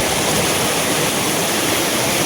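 A river in the Azad Kashmir countryside rushes loudly and continuously. Its dense, roaring wash of water noise fills the whole stretch without a break.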